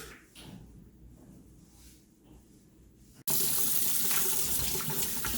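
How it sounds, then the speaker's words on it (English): Tap water runs into a sink to rinse a pizza steel, starting softly and then turning abruptly into a loud, steady gush that continues to the end. "Give it a quick rinse."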